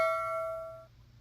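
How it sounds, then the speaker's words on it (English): A single bright bell ding rings out cleanly, its tone holding for under a second before it cuts off, leaving a faint low hum. "Dingy dingy. Ring the bell."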